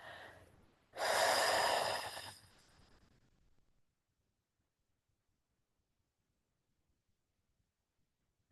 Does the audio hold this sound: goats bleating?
no